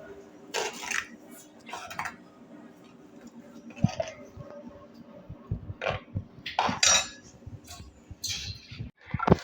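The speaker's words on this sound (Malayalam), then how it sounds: "ഒന്ന് ഇളക്കി കൊടുക്കാം" A utensil stirs salted-mango curry in a pot, giving scattered clinks and scrapes against the metal at an irregular pace, fairly close and moderately quiet.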